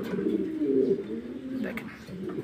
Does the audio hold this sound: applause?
no